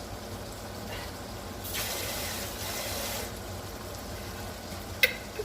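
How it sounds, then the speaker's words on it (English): A splash of water poured into a baked rigatoni dish in a home kitchen, a broad gushing burst lasting about a second and a half, with a small clink near the end and no talking. "Just put a splash of water in here."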